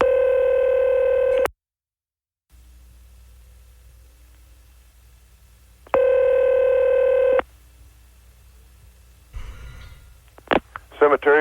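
Telephone line tones: a steady loud dial tone, then silence and a faint hiss, a second burst of the same tone, and short dialing beeps and clicks at the end.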